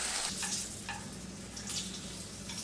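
Green zucchini slices frying in a pan, a steady close sizzle and crackle with a few faint utensil taps, no voices.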